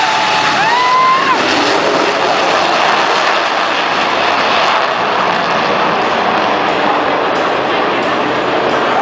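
A fixed-wing military demonstration aircraft flies at a Hawaii airshow with its landing gear extended, giving a loud, steady engine roar that fills the whole stretch without a break, with no talk over it.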